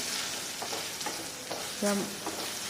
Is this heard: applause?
no